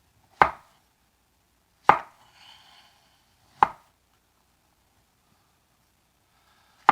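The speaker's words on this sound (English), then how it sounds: "Just cut the ends off and just start to slice them about a ½ inch thick" A knife slices through yellow squash on a cutting board in four sharp, evenly spaced chops, each clear and close, with quiet gaps between them.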